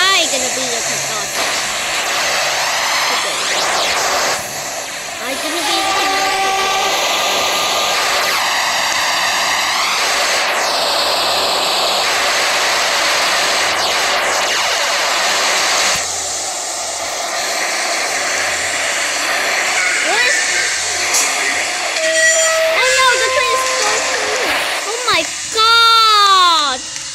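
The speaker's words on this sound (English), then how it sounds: "The train's about to leave." Train noises from a subway runner video game: a loud, continuous hissing rush with warbling tones and chirps layered over it, and a voice talking throughout.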